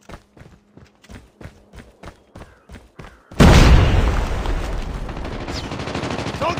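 A grenade blows up in a tactical shooter game: a run of soft, evenly spaced thumps like footsteps, then a sudden loud blast that rolls on in a long, dense roar with crackling debris.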